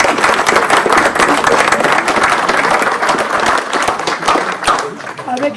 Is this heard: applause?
yes